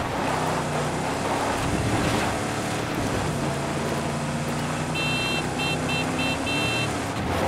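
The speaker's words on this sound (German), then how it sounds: "Das Auto brummt zu doll." Loud, steady engine hum of a car driven in Far Cry New Dawn, droning continuously under wind-like noise, with a brief high electronic beeping pattern near the end.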